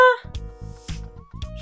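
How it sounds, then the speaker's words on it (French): A house cat meows several times in quick, short calls close by, some brief and chirpy and some drawn out, in a quiet room. "Chat!"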